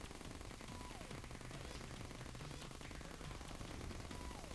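Rapid, continuous automatic gunfire from guns shooting homing bullets in the Terraria video game during a Moon Lord boss fight, a dense unbroken stream of electronic shots at steady loudness.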